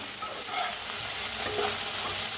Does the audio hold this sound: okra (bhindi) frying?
yes